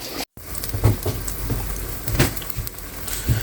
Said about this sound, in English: I have all these banana fritters in the pan, frying nicely.